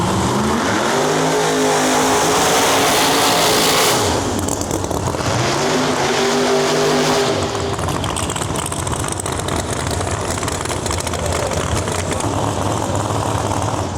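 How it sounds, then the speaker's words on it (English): A race car does a loud burnout, its engine revving hard in repeated rising surges over tire roar, then holding a sustained, noisy high-rpm drone up close. "Just did a big burnout here or whatever."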